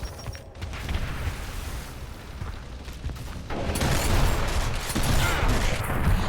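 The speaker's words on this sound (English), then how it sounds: "he's throwing the grenade." A grenade blast in a video game with blood, guts and chainsaws: dense, rumbling, explosive noise that swells louder midway and keeps a heavy roar to the end.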